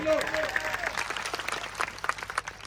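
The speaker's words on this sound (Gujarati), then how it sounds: "અહીંયા પોલીસ અધિકારીઓ આપણી વ્યવસ્થામાં ઉભા છે, એમના માટે જોરદાર તાળીઓ પાડી લો" A crowd at an outdoor political speech in a village claps in a steady burst of applause, fairly distant and even, with a voice briefly audible at the start.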